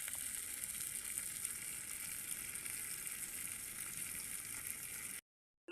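Chilapi fish fry in oil in a pan, giving a steady, even sizzle and crackle held close and fairly loud for several seconds before cutting off abruptly.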